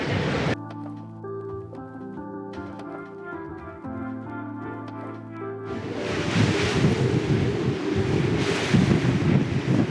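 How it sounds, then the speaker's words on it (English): Strong wind blasts across a rocky hilltop on a Greek island near old windmills; steady tonal sounds give way midway to a loud, gusting roar of wind buffeting the microphone. "the wind is like 10 times worse up here"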